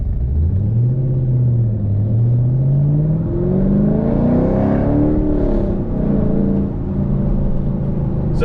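A 2010-2015 fifth-generation Camaro SS V8 with long tube headers, a deep continuous exhaust rumble that rises and falls as the engine revs up and settles, loud and close for the whole stretch with no voices.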